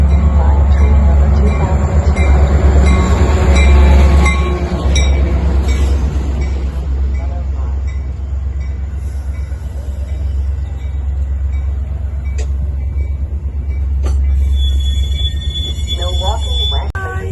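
A Metra commuter train on the Milwaukee District West line at Roselle station gives a steady, loud low rumble with faint metallic wheel squeal and clinks over it, plus brief voices or announcements early on.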